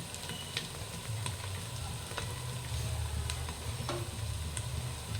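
Onions fry in a pan for biryani, a steady close sizzle with occasional soft stirring clicks and scrapes, no voices.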